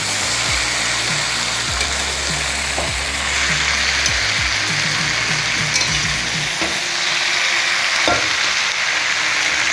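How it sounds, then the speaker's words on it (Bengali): Taro stolons poured into a wok over a normal gas flame fry with a busy, steady sizzle. A spatula stirs them gently, scraping and knocking against the metal in irregular strokes close by. "পুরো কচুর লতিটা আমরা ওর মধ্যে ঢেলে দিলাম কড়াইতে, দিয়ে এবার হালকা হালকা করে নাড়াতে থাকবো"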